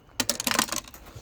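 Rapid burst of clacking keystrokes on a smashed HP computer keyboard, about a dozen close, sharp taps in quick succession, then quiet.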